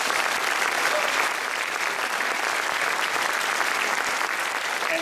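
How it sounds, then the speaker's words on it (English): Steady, dense applause from a school audience at a high school honor band concert, honoring the students' teachers; sustained, full clapping that holds at an even level throughout with no break. "big round of applause for their teachers"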